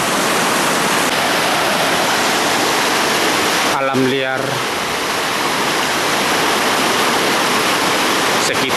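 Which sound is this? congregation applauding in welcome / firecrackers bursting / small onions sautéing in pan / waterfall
waterfall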